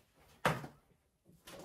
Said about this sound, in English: Give me one second so I can close this door.